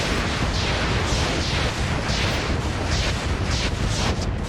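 Incendiary weapons pour sustained fire onto an overheating Cougar mech in a MechWarrior battle, a dense, continuous roaring barrage with rhythmic pulsing bursts, loud and unbroken throughout.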